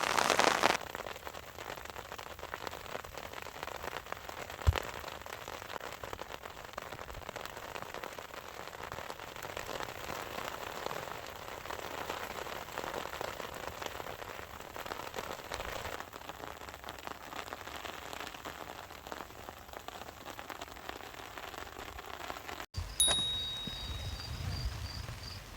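A light drizzle falls steadily during a storm, a soft continuous patter of raindrops on the ground, faint and even, with a sharp knock early on and a short clatter near the end.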